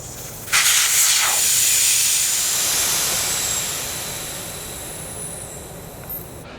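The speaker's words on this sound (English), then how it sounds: "using a valve core tool remover, I remove the valve core from the tire, which releases the air." Air rushes out of a tire's valve stem once the valve core is unscrewed, a sudden loud, steady hiss close by that slowly fades over several seconds.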